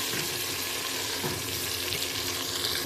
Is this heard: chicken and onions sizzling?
yes